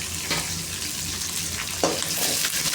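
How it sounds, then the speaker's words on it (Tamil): Chopped banana flower sautés in hot oil with curry leaves for a chutney, giving a steady, close sizzle broken by a few scraping stirs. "எண்ணெயில் வணக்கிக்கிறேன்"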